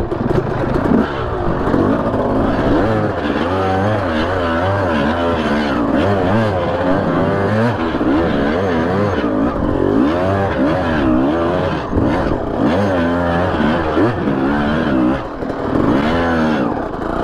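A Suzuki RM 250 enduro dirt bike engine revs continuously with rising and falling pitch, loud and close throughout, with no talking.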